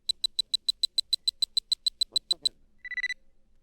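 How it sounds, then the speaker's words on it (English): A Star Trek communicator chirps with a rapid run of about fourteen evenly spaced high electronic pips, then a short warbling tone, clear and alone against silence. "You will know it is time to turn the page when you hear the communicator beep like this."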